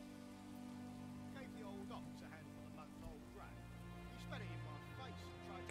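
Steady rain patters across a medieval village being built in the city-building game Manor Lords, a soft continuous wash under ambient game sounds and a talking voice.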